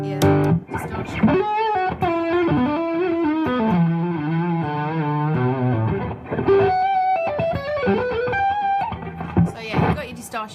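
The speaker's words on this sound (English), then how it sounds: "Bring that in and you've got your distortion." An electric guitar played through a distortion pedal on a pedalboard, heavily saturated sustained notes and bends with a gritty, buzzing tone, loud and close, phrases played one after another with brief pauses.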